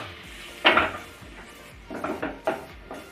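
Chopped garlic and green chili tipped into a pan for a fish chop mixture, heard as a few close clinks and scrapes of a spoon against metal, with one louder knock near the start and several lighter taps later.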